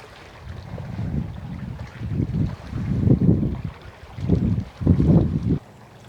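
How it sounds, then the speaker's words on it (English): Ocean waves at the Florida Keys roll in as repeated low surges, one every second or so, rising and falling against gusty wind buffeting the microphone. "Sound of the waves helps you do that."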